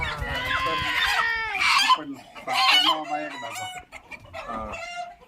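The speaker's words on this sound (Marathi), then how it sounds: "तर बघा हे असा कोंबडा आहे" A rooster lets out loud, close squawks and strained crowing calls in several bursts, harsh and agitated.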